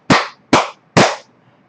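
Three sharp hand claps at an even, slow pace, close and fairly loud, keeping time with a song during a seated silver rehabilitation exercise session, no talking.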